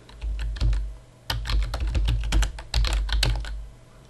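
Rapid typing on a computer keyboard while entering a browser search, heard up close as bursts of clattering keystrokes with short pauses between, with no talking.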